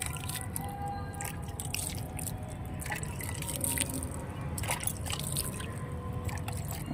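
Water sprinkled over freshly sown seed pots in a garden, dripping and trickling close by in a continuous patter of small drops.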